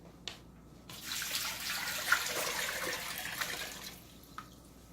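Water from six-ounce cans, about six and three-quarter cups in all, pours steadily into a pot of lasagna sauce, a continuous splashing rush lasting a few seconds before tapering off, with no talking.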